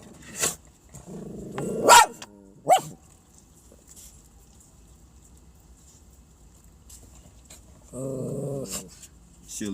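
A dog barks and growls in a few loud, abrupt bursts early on, then falls mostly quiet before a short rumbling growl near the end, close to the microphone.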